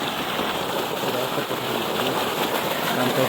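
Steady rushing irrigation water flows continuously through a wheat field, a broad hiss of running water close by with no breaks.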